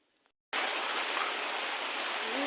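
Heavy downpour on a farm, long awaited, bursts in suddenly after a half-second of quiet and then roars as a loud, steady, dense hiss of rain without any voices.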